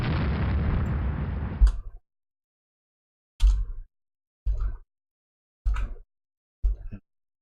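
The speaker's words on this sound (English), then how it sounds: "The rear turret's engaged again." Naval turret guns firing in the warship strategy game Rule the Waves: a long rumbling salvo fades out, then after a silence four separate heavy booms follow at roughly one-second intervals, each ending abruptly, with no talk.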